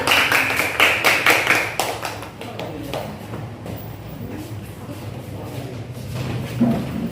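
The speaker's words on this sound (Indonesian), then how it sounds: "Berikan aplaus untuk temannya yang tampil." Students in a physics classroom clap for classmates who have just presented: a quick burst of rhythmic hand claps that thins out after a few seconds, leaving shuffling and room noise.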